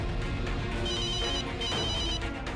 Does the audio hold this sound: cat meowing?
no